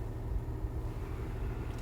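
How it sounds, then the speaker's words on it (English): A cooled seat fan in a 2017 Cadillac CT6 Platinum runs as a steady, low, broadband whooshing hum inside the quiet cabin, continuous and even throughout. "You hear how loud that cooled seat is?"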